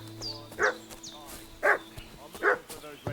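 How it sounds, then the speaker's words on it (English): Dog barking in the medieval open-world game Kingdom Come Deliverance 2, three separate barks spaced about a second apart at moderate distance over faint ambient background noise and bird chirps. "What's that dog making such a fuss about?"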